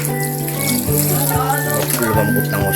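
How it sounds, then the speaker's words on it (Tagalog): Water pours steadily into a pot of pork hock adobo under a continuous background hum, with a few soft clinks of cookware. "Lagyan natin ng kaunting tubig"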